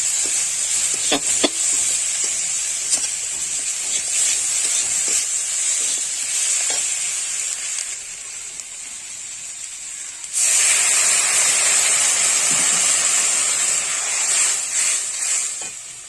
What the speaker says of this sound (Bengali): এবার একটু নেড়ে চেড়ে জল দিয়ে দেবো